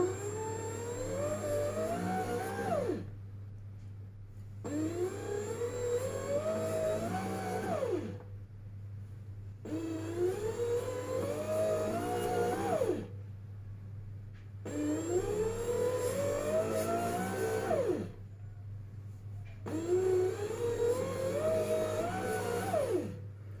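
A Tefal bread machine kneads pizza dough in repeated cycles, a whirring motor that winds up for a few seconds, stops briefly, then starts again, over a steady low hum.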